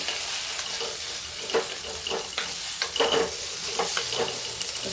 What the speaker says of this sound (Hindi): देखिए इसमें डाल के थोड़ी सी भूनते हैं इसको।